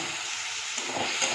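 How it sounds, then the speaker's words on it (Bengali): Spice paste being fried with boiled potatoes and a splash of water in a pan gives a steady, close sizzle and hiss, with light stirring scrapes toward the end. "মশলাটাকে আবার ভালো করে একটু কষিয়ে নেব"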